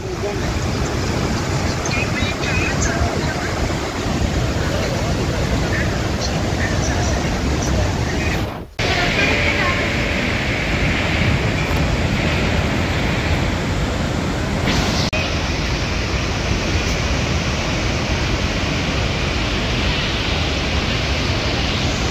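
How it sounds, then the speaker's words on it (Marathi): A mountain river rushes loudly near Bhim Pul by Mana village, a steady, dense roar of water that fills the scene continuously with only a brief break. "की खडखडून वाहत आहे आणि खूप जास्त आवाज करते नदी"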